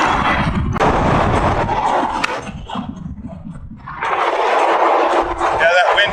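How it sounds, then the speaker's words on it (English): Strong gusts of wind blast into the microphone outdoors, a loud, rough low-frequency rumble that surges and dips, with a voice talking over it. "that wind just fucking kicks it up"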